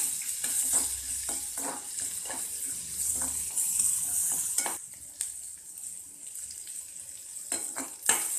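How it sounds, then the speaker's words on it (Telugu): Onion pieces fry in hot oil with mustard seeds and cumin, giving a steady close sizzle, with occasional stirring clicks and knocks of a utensil against the pan, and no voices. "ఉల్లిపాయ ముక్కలు వేసి లైట్గా 1-2 నిమిషాలు ఇట్లాగా వేపాలి."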